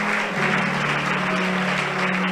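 A church congregation applauds steadily for the full stretch, a dense wash of clapping over sustained keyboard tones.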